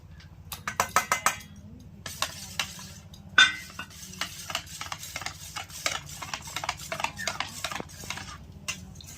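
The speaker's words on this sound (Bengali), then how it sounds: "এবার আমি এই আঙ্গুরের জুসে এক বাটি কর্নফ্লাওয়ার মিশিয়ে নেবো" A spoon stirs cornflour into grape juice in a bowl, clinking against the sides in quick repeated strokes, close and fairly quiet.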